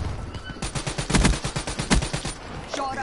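Rapid LMG bursts in the Black Ops 3 beta multiplayer, loud sustained automatic fire in repeated volleys with dense crackling reports, and a faint voice at the end.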